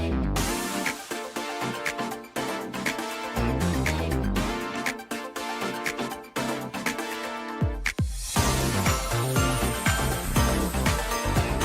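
Mario Kart World's remix of an SNES theme plays continuously at full volume: dense band music with a driving bass line, busy drum fills and bright melodic layers, building into a fuller section near the end.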